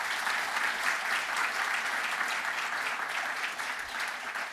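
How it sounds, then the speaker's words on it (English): An audience at a SEEK employment masterclass applauds the presenters, a dense, even roar of many hands clapping that holds steady throughout and tapers slightly at the close. "can we just start by giving Hannah and Rosario a big round of applause for today?"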